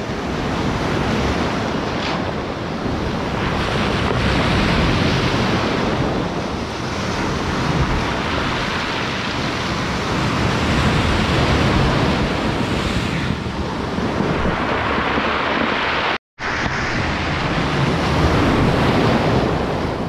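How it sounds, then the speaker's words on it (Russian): Strong surf crashes continuously along the Caribbean coast near Antigua, with heavy wind buffeting the microphone throughout; a loud, dense roar with a brief dropout near the end. "Такие волны сегодня, жесть вообще!"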